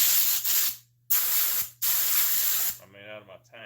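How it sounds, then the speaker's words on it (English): Regular unheated compressed air blasts from a spray gun tank onto glued auto seat upholstery, three loud close hissing bursts separated by short silences, followed by a brief voice. "I'm going to blow some air on it, and just, it ain't got to be heated air, just regular air out of my spray"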